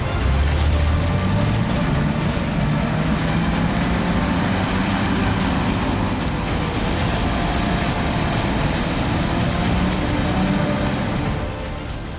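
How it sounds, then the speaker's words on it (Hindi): A Russian military snow tractor's engine runs continuously with a low, rough rumble and shifting pitch, steady and fairly loud before easing off at the end. "ये स्नो ट्रैक्टर बर्फ और दलदली क्षेत्र में चलने में सक्षम है"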